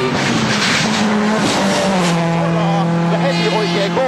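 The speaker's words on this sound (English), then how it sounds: "A terrific view from the bumper of Marcus's Focus here." A Ford Focus rally car on an abrasive concrete military-range stage roars close by with a loud, continuous engine note that shifts pitch through gear changes, with tire noise and commentary talk over it.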